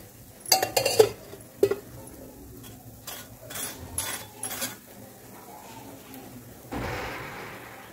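A paratha is flipped in a ghee-coated pan, with sharp metallic clinks and scrapes of a spatula against the pan, followed by a soft hiss of frying near the end.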